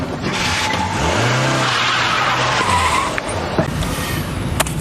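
A car accelerates hard during a police chase, its engine roaring close up with a rising then falling rev and a tire squeal, followed by rougher road noise and knocks.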